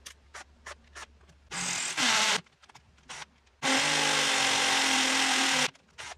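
A Yukido 13mm cordless lithium-ion power drill, torque set to 25, whines in two bursts, a short one and then a longer sustained run, separated by quieter knocks and handling clicks.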